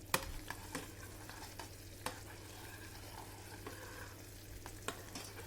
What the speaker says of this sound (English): now I'll take the lid off and give it a little stir.